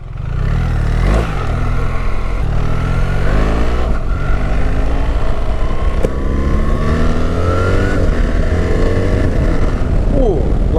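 A BMW R1300 GS motorcycle engine idles and revs loudly up close, pitch rising and falling through several throttle blips, with a person talking faintly underneath.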